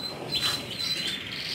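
Caged goldfinches and canaries chirp and twitter steadily in a breeding room, high thin calls and trills overlapping continuously against a constant hiss of background noise, moderately near.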